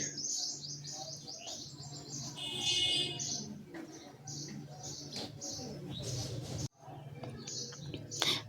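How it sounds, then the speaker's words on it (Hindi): Busy chirping and tweeting of many small birds nearby, continuous and layered, with occasional cooing and a soft background hum. "आसपास बहुत सारे बच्चों की चहचहाने की आवाज़ आ रही है"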